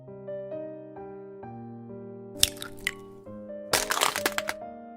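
Eggs cracked with a crunchy squish into a bowl of flour, salt and water noodle dough, two brief close bursts over a sustained musical tone.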